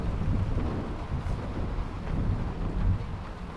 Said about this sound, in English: I do love this storm mod where it goes to indoor storm sounds.